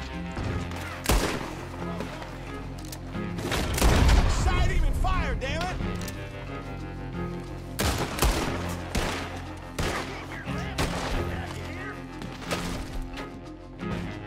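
Gunshots crack and thud in Red Dead Redemption 2 during a raid on the O'Driscoll camp, with scattered loud shots and impacts amid game noise while someone talks over much of it.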